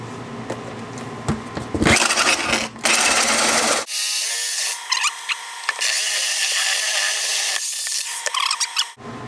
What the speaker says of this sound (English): Let's drill that hole. I'm going with the 1 3/8" hole.